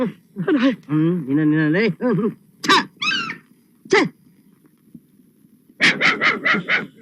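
A dog barks in a quick run of sharp yelps near the end, after earlier whining, squeaky vocal sounds.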